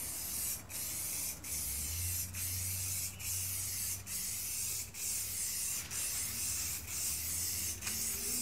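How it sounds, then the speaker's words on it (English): Spray can spraying outdoors, a steady close hiss in long bursts, broken by short regular pauses roughly every second. "let's see if this stuff sprays very good"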